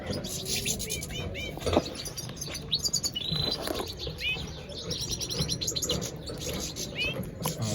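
Chicks chirp in a nest of three, likely in a breeding cage, with repeated high tweets and calls close by while someone talks over them.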